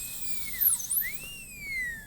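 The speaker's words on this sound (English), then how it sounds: "We're going to drill a hole" A dental drill with a burr cuts a hole in a tooth during a cavity preparation, its high thin whine dipping and rising in pitch as it slows under load and then speeds back up, close and clear.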